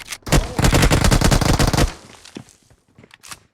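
Rapid shotgun and gunfire bursts from a battle royale mobile game on the Livik map ring out loudly for about a second and a half, then fade into scattered quieter shots and game noise.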